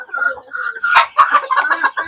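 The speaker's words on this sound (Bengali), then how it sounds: "আমার এটা পাকিস্তানি মুরগি মূলত" Pakistani breed hens cluck and chatter continuously on a village chicken farm, with overlapping calls from several birds, close and fairly loud, and a couple of sharper squawks mid-way.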